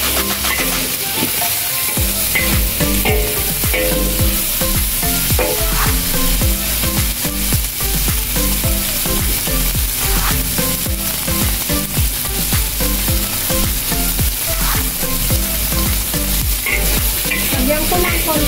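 Vegetables sizzle loudly in hot oil in a pan while being stirred for fried egg noodles, a steady dense crackle with scraping and tossing strokes throughout, close and uninterrupted, no voices.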